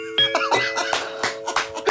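A ding-dong-dang chime sound effect rings out on a Korean radio show, a short sequence of bright bell-like tones mixed with overlapping voices and laughter.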